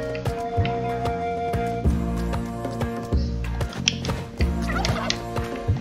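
Turkey gobbling in the video game Spelunky 2, repeated warbling gobbles mixed with game music and effects, fairly loud and continuous with no talk.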